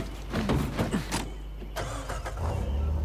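A car engine cranks and starts in Uncharted 4, preceded by door and clunk sounds, then settles into a low steady idle near the end, close and fairly loud with no talking.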